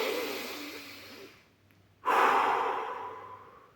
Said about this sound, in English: and then you do deep breaths.